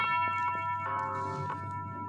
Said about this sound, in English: The bell stopped already?